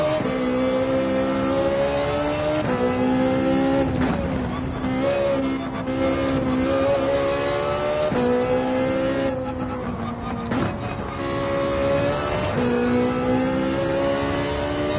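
Ferrari 458 engine in Gran Turismo 7 lapping the Nürburgring, a loud continuous high-pitched wail rising and falling through gear changes and corners, with brief dips as the throttle lifts before surging again.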